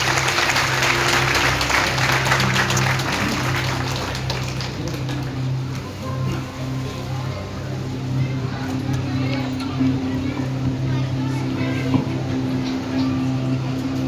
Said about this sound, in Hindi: ताली बजाकर अभिनंदन करेंगे सभी लोग।